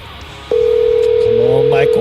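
A steady tone from an outgoing telephone call begins abruptly and holds loud and unbroken, with a voice briefly heard under it near the end.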